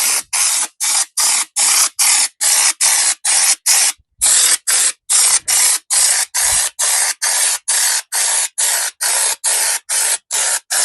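A paint spray gun coating a truck panel in Raptor-style paint, with about twenty evenly spaced bursts of loud hissing spray and brief silent gaps between passes, close up.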